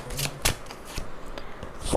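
Tarot cards shuffled by hand, several soft, quick riffling bursts at an irregular pace, close and moderately quiet against faint room noise, with no talking.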